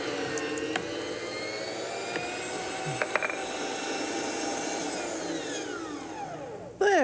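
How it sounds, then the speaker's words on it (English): Electric meat grinder churning beef into hamburger runs as a steady, continuous whirring drone with faint rattles, ending in a clunk. "my electric meat grinder."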